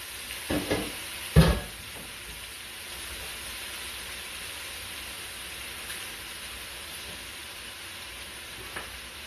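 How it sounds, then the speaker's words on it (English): Haitian stewed pork frying in brown seasoning sizzles with a steady, close hiss, opening with a couple of brisk scraping stirs before settling into an even crackle. "now we're going to stir the meat so all of us can get that brown seasoning on it"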